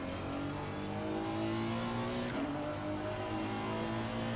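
Honda NSX GT3 race car engine in a racing game at the Nürburgring, a steady, loud revving drone with stacked harmonic tones that rise and dip through gear changes, running continuously with no pause.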